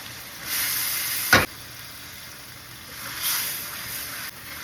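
Drained, partly cooked urad dal tipped into sizzling masala with separated oil, giving a brief loud splash and hiss over a steady background sizzle that swells again later.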